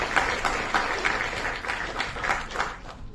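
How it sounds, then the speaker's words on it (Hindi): Audience applause at a taekwondo awards ceremony, moderately loud with rhythmic, pulsing claps that fade out at the close. "उनके लिए एक बार जोरदार तालियां"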